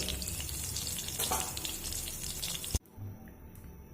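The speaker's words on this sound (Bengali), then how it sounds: "মাছটা একদম হালকা করে এপিটোপিট করে ভেজে নিয়েছি এবার আমি তুলে নেব আর বাকি মাছগুলো একইভাবে ভেজে নেব" Fish fries lightly in hot oil, giving a dense, steady crackling sizzle that cuts off abruptly near the end and leaves a quiet, faint background.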